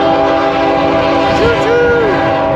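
A train rumbles past loud and close, its wheels a steady roar, while the horn sounds in sliding tones near the middle.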